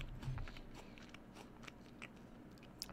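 Someone chews a crunchy SugarBee apple up close with faint, crisp crunching bites over low background noise, alone and quiet, ending in a sharper click.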